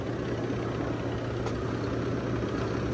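A JCB Fastrac tractor engine idles nearby with a steady, unbroken low diesel rumble and no pauses or talk.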